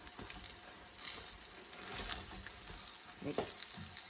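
Eggplant frying in hot oil in a pan, a soft, steady sizzle and crackle close by, with occasional stirring bumps rising briefly above the hiss.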